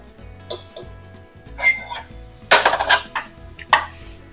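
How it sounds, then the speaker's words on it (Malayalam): A spoon scrapes and clanks against a pot while beef curry is stirred, giving a few irregular metallic knocks and scrapes at close range in a quiet kitchen. "ഇനി ഇത് എല്ലാം കൂടി ഒന്ന് മിക്സ് ചെയ്തിട്ടെടുക്കുക"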